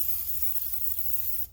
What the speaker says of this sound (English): Coat this with that sprayer of olive oil to get a good base